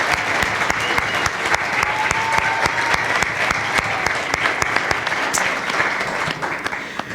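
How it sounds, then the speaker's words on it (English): Debate audience in Cincinnati applauding a mayoral candidate, steady close clapping from many hands that holds for several seconds before easing slightly at the end. "Let's have a round of applause for Mr. Pureval."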